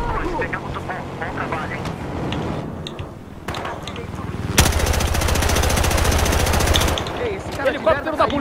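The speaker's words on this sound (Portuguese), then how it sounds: "Já tá atirando a gente o helicóptero." A helicopter fires on players in the desert map of the online shooter Battlefield Hardline, with rotor noise, bursts of rapid automatic gunfire and a long loud sustained volley, while players talk excitedly over it.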